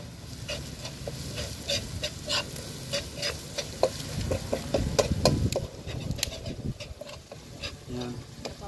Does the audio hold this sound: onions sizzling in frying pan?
yes